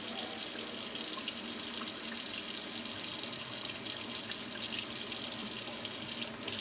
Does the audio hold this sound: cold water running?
yes